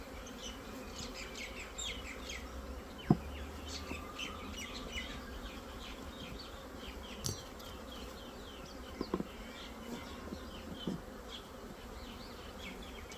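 A honey bee swarm caught into an 8-frame hive box hums in a dense, steady buzz close by, with individual bees zipping past and occasional faint bird chirps in the background; no one speaks.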